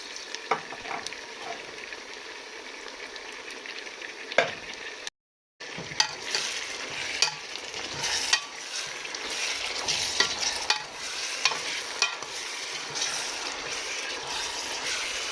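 Peeled tomato and sliced onion simmer in a beef vegetable sauce with a steady bubbling sizzle. Occasional stirring scrapes come through, a brief dropout cuts in partway, and then the cooking noise returns close and even with no talking.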